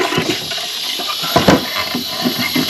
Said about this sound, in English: Just get rid of the water.